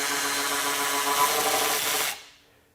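Milwaukee M12 Fuel 2566 high-speed cordless ratchet driving a 9/16 inch fastener, one sustained close whirring motor run that cuts off sharply after about two seconds.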